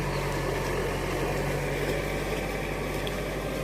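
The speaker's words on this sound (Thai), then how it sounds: "อันนี้ก็ L50 ของเราเองนะครับ ที่ใช้ลาก SS200 นะครับ นี้เราก็ ไถนา น้ำ ครับ" Close and steady, the engine of a Kubota L5018 tractor pulling an SS200 implement through a flooded rice field makes a continuous low drone with no speech.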